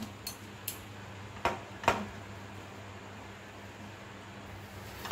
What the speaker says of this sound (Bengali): আমুল দুধটা দেওয়ার পর খুব ভালোভাবে মিশিয়ে দেবো